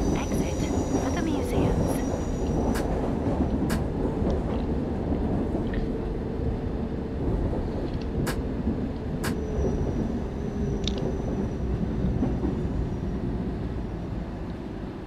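A London Underground Circle Line train running inside London Underground Simulator, a steady dense rumble throughout with faint high tonal whines and brief clicks; a voice talks over it.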